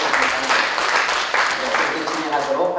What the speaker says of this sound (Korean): 좋으시면 박수로